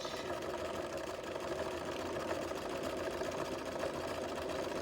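A sewing machine stitching two pieces of fabric together, running steadily with a continuous, even mechanical whir from start to finish and no pauses.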